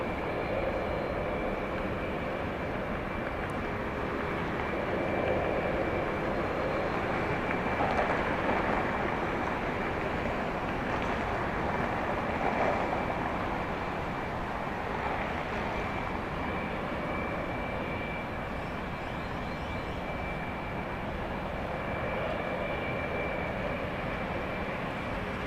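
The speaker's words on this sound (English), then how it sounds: "Here goes Southwest Flight 35. It's going to Houston. Short hop from here to there. This is a MAX 8." A Southwest Boeing 737 MAX 8 jet departs Dallas Love Field for Houston, a steady, loud broadband engine roar that swells slightly in the middle and holds for the whole stretch without any talk.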